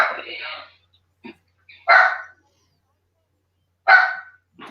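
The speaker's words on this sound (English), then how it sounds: "Don't you hear Tiana barking" A dog barks in a few separate sharp bursts close by, with gaps of quiet between them and a person talking at the start.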